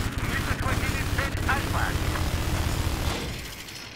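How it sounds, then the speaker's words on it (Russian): An enemy helicopter in the video game Battlefield 4 drones as a dense, steady roar under gunfire and game effects, loud and continuous before easing slightly at the end. "Обнаружена вражеская вертушка."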